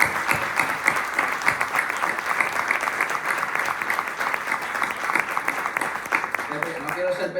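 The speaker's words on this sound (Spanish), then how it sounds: "Esto se merece otro aplauso." An audience bursts into sustained applause, a dense and loud wash of many hands clapping, with a voice briefly audible near the end.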